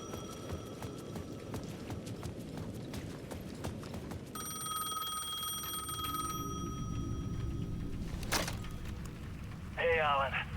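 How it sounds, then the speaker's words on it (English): A payphone rings in the video game Alan Wake 2, a repeated electronic trill mid-clip over background ambience and game sounds, with a voice briefly heard. "The payphone at the edge of the plaza was ringing again."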